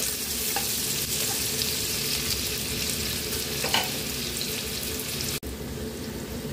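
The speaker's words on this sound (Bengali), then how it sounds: "পেঁয়াজগুলোকে কুচি করে রেখেছিলাম দিয়ে দিলাম" Finely chopped onions sizzle steadily in a pan for a spicy soya dish, a dense continuous frying hiss with occasional soft scraping of stirring and a sharp click near the end.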